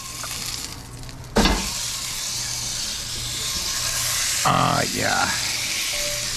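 A tomahawk steak spits and sizzles loudly in a hot pan as it is flipped, a sharp burst of frying hiss swelling and then settling into a steady crackle, with a brief spoken word over it.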